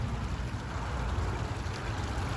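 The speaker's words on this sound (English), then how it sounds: "Nice little waterfall over there in the back." A small waterfall in a pond water feature at an aquarium pours steadily, a continuous broadband rush of falling water, fairly soft and unbroken, with no voices.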